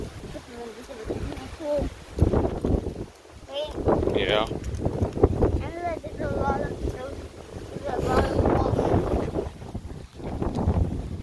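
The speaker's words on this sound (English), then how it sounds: "It is super windy." Strong wind buffets the microphone outdoors beside a pool in summer, gusting loudly and unevenly under ongoing talk.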